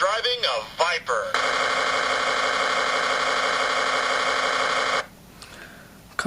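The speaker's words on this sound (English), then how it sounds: "Starting up of the engine." A 2002 Road Rippers toy Dodge Viper SRT10 plays its electronic engine start-up effect: a few warbling chirps, then a steady synthetic engine drone that holds for several seconds before cutting off abruptly.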